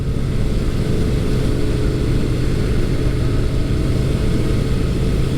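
Yamaha SCR950 motorcycle engine under way on a ride, a loud, steady low-pitched drone with wind rush throughout and no talking.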